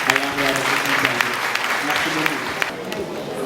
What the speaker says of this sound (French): je demande encore des applaudissements et des salutations à l'endroit de cette initiative